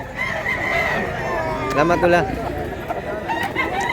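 Roosters crow at a crowded chicken market in Mantalungon, Cebu, one loud, close crow rising mid-clip over clucking and the chatter of people talking nearby.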